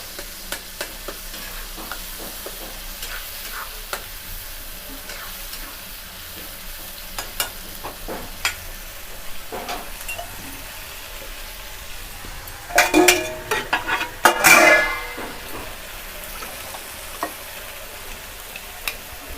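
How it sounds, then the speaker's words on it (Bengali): Ground masala paste frying with tomato in a kadai for a fish curry, a soft steady sizzle with scattered spoon taps, then a louder burst of sputtering and stirring near the end. "মশলাটা বেটে রেখেছি সেই মশলাটা আমরা এই কড়ার মধ্যে দিয়ে দেবো, টমেটোর সাথে দিয়ে কষিয়ে নেব।"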